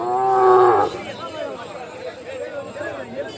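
A cow at a cattle market gives one loud, close moo at the start, followed by someone talking over quieter market background.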